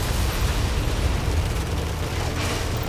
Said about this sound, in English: We open fire at enemy now